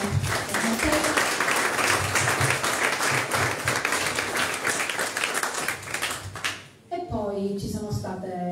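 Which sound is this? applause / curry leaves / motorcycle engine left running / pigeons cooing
applause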